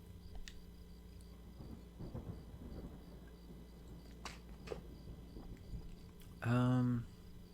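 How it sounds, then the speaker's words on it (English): A low thunder rumble rolls beneath a steady hiss of rain in a video game, with faint voices in the background and a brief loud tone near the end. "Sounded like it was going to start raining again."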